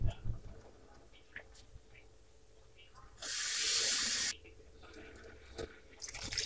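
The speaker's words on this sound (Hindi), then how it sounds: "अब इसमें पानी डालेंगे।" Water poured into a hot cooking pan of melted ingredients for Chinese-style Manchurian sets off a loud, bursting hiss of about a second, then drops back to quiet kitchen background with faint scattered sounds.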